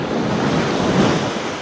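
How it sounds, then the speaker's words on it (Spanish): Large ocean waves wash onto an island beach in a steady, close roar of surf, with gusty wind buffeting the microphone. "Son grandes aquí las olas."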